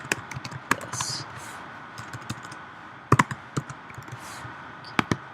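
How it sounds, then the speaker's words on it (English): A computer keyboard used to type a to-do list produces close, brisk clusters of key taps with short pauses between bursts over a faint steady background hum. "if I want to type something, I'm going to type in, let's see, my to-do list"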